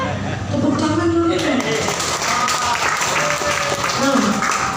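A group at a Cetia Choyang therapy session in Pamulang claps in steady applause, running the whole time beneath a person speaking.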